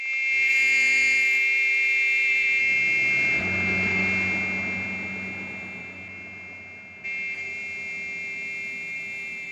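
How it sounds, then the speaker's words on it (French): A klaxon horn blares as one loud, steady, piercing buzz that holds for about nine seconds, easing slightly and then swelling back near the end. "Le klaxon, le klaxon!"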